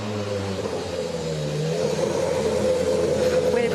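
Toyota WRC rally car at Rally Italia Sardegna 2024 rolling into the tyre fitting zone, a mid-pitched engine hum with a slight rise in revs, fairly close and steady over background bustle.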